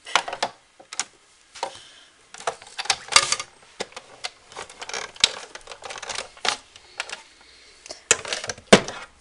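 A snowflake paper punch works on cardstock with a string of sharp, close clicks and snaps, irregularly spaced and varying in loudness, with no talk.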